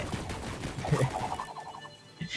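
Towers shooting in the Roblox game Tower Defense Simulator, a quick burst of rapid gunfire cracks in a tight volley, then thins out to scattered game effects near the end.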